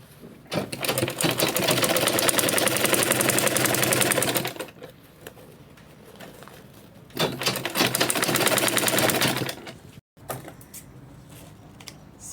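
A sewing machine top stitches around a fabric purse organizer bag, running in two long loud bursts with a rapid steady rattle, separated by a quieter pause and followed by brief handling.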